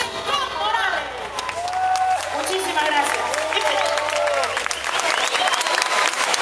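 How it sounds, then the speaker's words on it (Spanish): An outdoor crowd at a year-end revolutionary festival in Caracas's Plaza Bolívar gives steady, sustained applause, dense and even throughout, with faint voices and tones mixed in. "Muchísimas gracias por sus aplausos"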